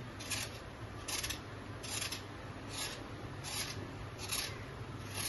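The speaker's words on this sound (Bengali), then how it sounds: "প্রথমে আমি পটলগুলোকে চেঁচে নেবো, ছাল ছাড়াবো না" Pointed gourds (patol) scraped with a knife, leaving the skin on: a close, steady rasping with rhythmic strokes repeating roughly every half second.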